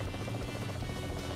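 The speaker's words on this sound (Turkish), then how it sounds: "Helikopter de var" Helicopter in the mobile battle-royale game PUBG Mobile, a steady whirring rotor drone that holds close and even throughout the short stretch.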